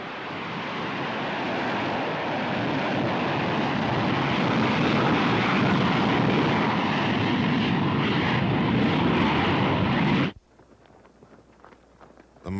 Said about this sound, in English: On December 26th, the B-52s resumed their missions.